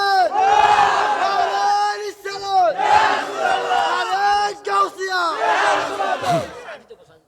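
A large crowd shouts the takbir loudly and in unison at a religious gathering, three long chanted waves of massed voices, close and powerful, with brief gaps between them.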